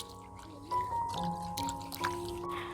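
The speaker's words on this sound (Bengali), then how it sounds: "এবার আমি শিল ধুয়ে রেখে দিচ্ছি।" Water splashes and trickles over a stone grinding slab (shil) as it is rinsed nearby. Tonal household sounds ring over it, and faint voices can be heard in the background.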